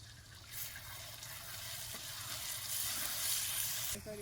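Ginger garlic paste sizzles hard in hot oil in a pan for chicken liver curry, a loud continuous hiss that swells after a brief lead-in and cuts off near the end, without speech.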